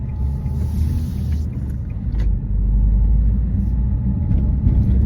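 A car engine rumbles low and steady while driving along a driving test route in Maple House. The noise is loud and continuous, deepens slightly halfway through, and no voice is heard over it.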